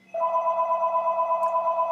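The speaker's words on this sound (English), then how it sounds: "It's like, apparently the phone rings." A telephone rings inside a house, starting abruptly as a steady, pulsing electronic trill that holds at an even, moderately loud level with no voices over it.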